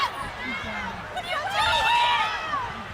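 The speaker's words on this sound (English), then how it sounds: "The crowds are all screaming." Panicked crowd at an outdoor Trump rally after shots are fired, a dense continuous wash of screams, shouts and frantic voices rising in the middle and staying loud throughout.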